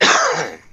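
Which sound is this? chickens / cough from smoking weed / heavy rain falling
cough from smoking weed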